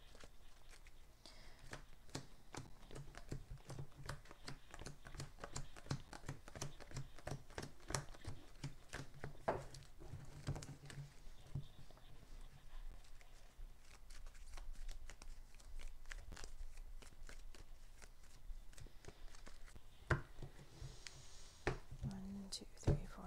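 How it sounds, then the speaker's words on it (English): A KeyForge card deck shuffled by hand at a quiet table, a long run of rapid riffling clicks and soft slaps, close and faint, with brief low talk in the background. "I cannot, so I will shuffle my deck."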